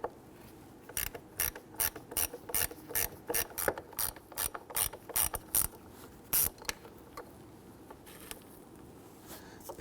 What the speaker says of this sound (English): Using a 7/32 socket, loosen and remove the two screws holding the mass airflow sensor to the air